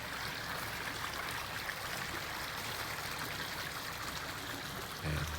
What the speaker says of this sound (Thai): คงได้ยินเสียงน้ำด้วยนะครับ เนี่ยเสียงน้ำไหล